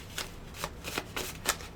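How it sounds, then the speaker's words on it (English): A deck of tarot cards is shuffled nearby, with about five quick riffling bursts in an uneven rhythm over a faint room background. "I'll shuffle it 2 more times."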